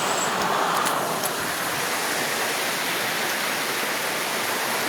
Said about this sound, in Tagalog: Nasa ilog.